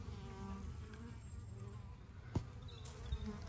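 Bees buzz around backyard hives and a patch of potting mix in a soft, continuous outdoor drone, with a few brief closer passes and small knocks near the end.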